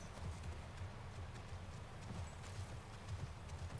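Horse hooves clip-clop in The Last of Us Part 1 game, a quiet, steady rapid rhythm of low thuds running throughout at moderate distance.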